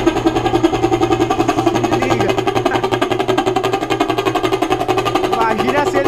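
Motorcycle idling with a Brazilian vuvuzela fitted in the exhaust, giving a loud pulsing buzzy drone with a steady rapid beat throughout, while someone talks briefly over it.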